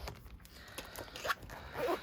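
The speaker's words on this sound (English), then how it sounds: "I've just got a zipper purse" A zipper purse being pulled open in a quick rasping run near the end, with soft handling rustles before it, close and fairly quiet.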